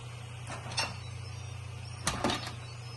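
An Instant Pot pressure cooker lid is opened after venting: a few sharp plastic-and-metal clicks and clunks, spaced in two pairs, over a steady low appliance hum.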